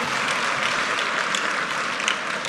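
Audience applause fills a hall at a live fintech festival event, a dense steady wash of clapping that holds at an even, loud level throughout with no voices over it.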